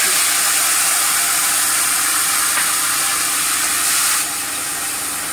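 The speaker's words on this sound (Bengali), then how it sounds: "এবারে আমি পোস্ত কাজু বাদামের পেস্টটা দিয়ে দিচ্ছি।" Poppy seed and cashew paste hitting a hot pan while cooking coconut paneer, giving a steady, loud, close hiss and sizzle that holds for several seconds and eases slightly near the end.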